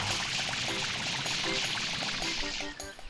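Water from Mario's spray nozzle in Super Mario Sunshine rushes in a steady, hissing stream, joined by a faint repeating tonal game sound. It cuts off near the end.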